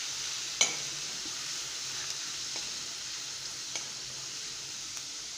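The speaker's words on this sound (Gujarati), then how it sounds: "લસણને આ રીતે થોડી વાર 1 મિનિટ આપણે સાતળી લઈશું" Crushed garlic, twelve to thirteen cloves, sautéing in a pan for dal makhani, giving a steady soft sizzle with a few light stirring clicks, close and alone without talk.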